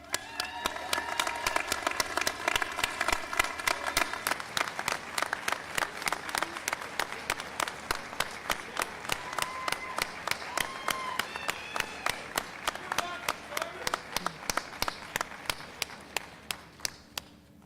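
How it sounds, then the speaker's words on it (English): A commencement convocation crowd at Eastern New Mexico University Roswell applauds graduates' families. Sustained clapping rolls on for many seconds with crisp separate claps, then thins out near the end. "please stand and let us applaud you"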